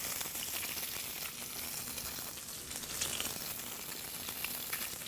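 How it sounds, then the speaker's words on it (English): Fish fillets sear in hot olive oil over high heat on a Mirage Pro Cadet, giving a steady, dense sizzle and crackle that holds evenly throughout, close and fairly loud with no talk. "And we'll get our fillets in there to sear the fillets."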